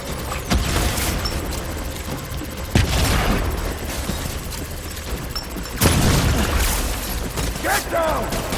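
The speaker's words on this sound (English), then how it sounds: "Open fire." Gunfire in the video game Death Stranding, with bursts of shots and heavy booms over a dense battle din, loud impacts landing near 0.5, 2.8 and 5.8 seconds, and voices shouting commands in the mix.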